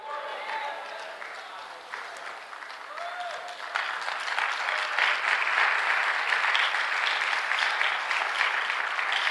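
A church congregation bursts into applause during a pastor's sermon, starting thinly under some talk and swelling into sustained, dense clapping from a large room full of people.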